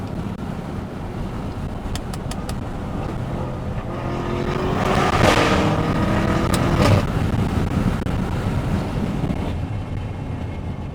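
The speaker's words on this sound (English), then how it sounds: "I love the pitch that the FI exhaust gets when you're getting up to speed in like 6th gear, even 5th gear" A BMW M5 with an FI exhaust accelerates through a tunnel, its steady engine drone and road roar echoing close by, swelling louder midway before easing slightly, with no one speaking.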